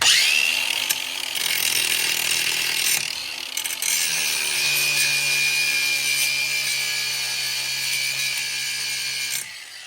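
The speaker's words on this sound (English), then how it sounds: "I'm going to use my grinding wheel. Very carefully just grind on this side of it" A grinding wheel cutting down the leftover stub of a bolt during a front suspension rebuild on a 2002–06 Honda CR-V, a loud continuous high-pitched whine close by whose pitch shifts as pressure changes, with no talking.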